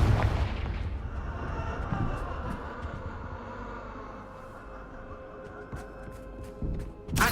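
Confringo blast spells in the Hogwarts Legacy video game go off as a heavy booming burst that fades into a long, low rumble, followed by sharp crackling hits and another loud blast at the end.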